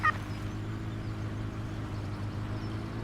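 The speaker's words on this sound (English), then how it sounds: "They sure sound like turkeys." Turkeys gobble in the farm game Farming Simulator 17, one brief burst at the start and then a low, steady background hum of fowl and ambient noise.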